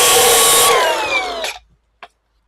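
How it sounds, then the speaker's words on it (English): A Sawzall reciprocating saw cuts through a metal turbo tube on a Mazda B2200 during an FE3 turbo swap, a loud dense buzzing rasp that slows and whines down before stopping, followed by a brief clank. "Can probably sawzall that tube."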